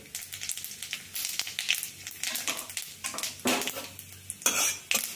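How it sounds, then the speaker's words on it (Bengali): Crushed cardamom, cinnamon and whole cumin frying in hot oil, a steady close sizzle broken by busy metal spoon scrapes and clinks against the pan, with louder stirring bursts near the end. "এবার আমি এর মধ্যে দিয়ে দিচ্ছি থেঁতো করা একটা এলাচ আর একটুখানি দারচিনি।"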